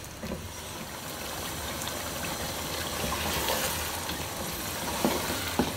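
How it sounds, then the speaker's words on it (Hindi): Ginger garlic paste cooking in oil in a pan, giving a steady close sizzle and crackle that runs evenly throughout, with light stirring scrapes and no talking. "लहसुन अदरक का पेस्ट डालेंगे एक टेबलस्पून। अब इसको 2 से 3 मिनट इसको पकाते हैं।"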